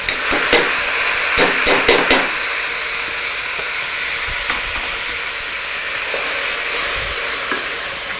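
Onion, carrot and red lentils sauté in a hot pot for lentil soup, giving a loud, steady sizzle with a few stirring clinks early on, close and alone without any voices.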